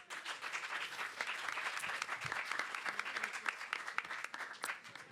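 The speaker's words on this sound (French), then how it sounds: "Je vous demande un nouveau tonnerre d'applaudissements pour Xavier, s'il vous plaît." Audience applause from a crowd at a French televised event on industrial inventions for the planet, steady dense clapping sustained throughout without a break.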